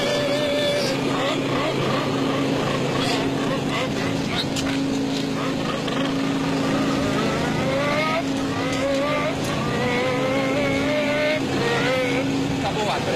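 A Formula 1 racing car engine starts and runs for the whole stretch, with a steady, loud, rising mechanical drone, while voices and background noise sit over it.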